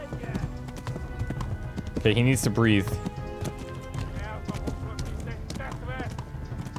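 Horse hooves in the medieval video game Kingdom Come Deliverance, a rhythmic clip-clop under a voice, with a brief louder horse-like snort or whinny partway through.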